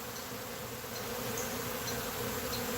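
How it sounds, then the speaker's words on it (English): A dense swarm of bees buzzes steadily all around, a continuous droning hum with no pauses. "Absolutely insane, the amount of bees."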